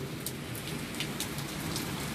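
Steady rain hisses and patters without a break, a dense wash of falling drops.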